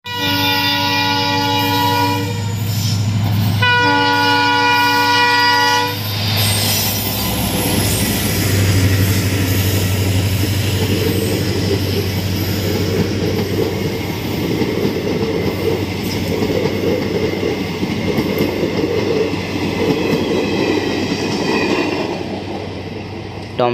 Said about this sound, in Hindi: ये है टॉम ट्रेन, कितनी बढ़िया टॉम ट्रेन है हमारे पास